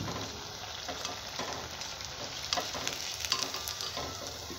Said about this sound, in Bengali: এইভাবে ভেজে নিয়েছি, দেখুন।